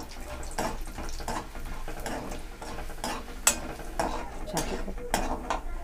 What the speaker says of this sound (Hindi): मैं अब डाल देती हूँ चने की दाल। दाल को भी मैं थोड़ा सा हल्की से भूंज